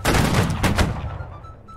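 Musket volley fired by soldiers in the video game Holdfast: Nations At War, a dense ragged crackle of overlapping shots that fades out over under two seconds.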